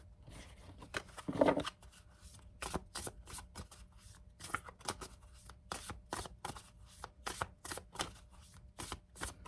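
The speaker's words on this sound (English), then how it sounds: "I'm just going to pause the video and shuffle the tarot." Tarot cards are shuffled close up in quick repeated riffling bursts, crisp papery flutters and snaps coming in irregular rhythm, with no voices.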